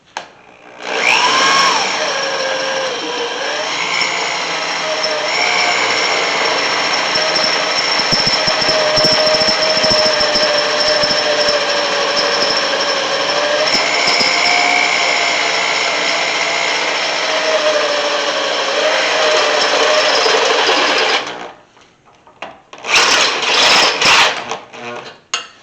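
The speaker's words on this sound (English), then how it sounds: "I'm going to go ahead and drill 2 more new holes in this, put bolts in" A power drill whines steadily and loudly for about twenty seconds while boring new bolt holes through a part on a 1991 Chevy OBS truck, its pitch wavering slightly under load before cutting off, followed by a brief second burst.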